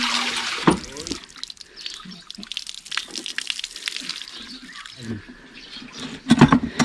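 Water drawn from a village water source in rural Russia, splashing and trickling in uneven bursts close by, with louder sloshes near the start and end and quieter dripping between.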